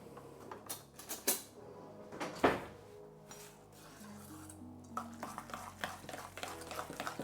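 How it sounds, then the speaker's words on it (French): Spoon stirring an egg mixture in a bowl for an egg sandwich filling, with soft scraping and rubbing strokes and a few sharper clinks, fairly close and moderate in level, no talk. "on va mélanger à la cuillère, tout simplement"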